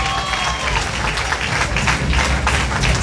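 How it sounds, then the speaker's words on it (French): Dense applause from a crowd at the Miss Cazères beauty pageant final, loud and sustained throughout with no pauses, a voice faintly present beneath the clapping. "Je vous remercie d'applaudir Sana, notre Miss Caser 2011."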